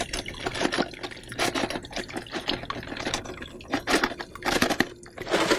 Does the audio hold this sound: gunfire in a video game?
no